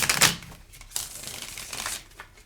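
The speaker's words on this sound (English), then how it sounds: "I'm going to start shuffling now." Tarot cards are shuffled by hand: two or three brisk riffling bursts of papery flutter, close and fairly quiet, with soft rustling between them.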